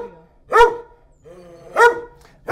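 A dog at an animal shelter barks three times in a slow, evenly spaced series, each bark loud and close, with short quiet gaps between.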